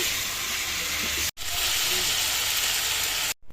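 Potatoes sautéing for aloo roast in a pan, a steady loud sizzle and hiss filling the whole stretch, broken by a brief gap near the middle and a cut just before the end.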